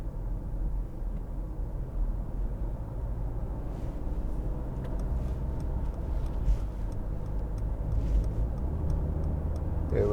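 A 2015 Mercedes-Benz C200 with a 1.6 engine, heard from inside the cabin on the road: a steady low engine drone and road rumble under throttle, fairly even in level throughout, with no talking.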